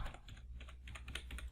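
Fingers tap a computer keyboard in a short run of light, quick keystrokes, close and clear, typing a single short word with no talking.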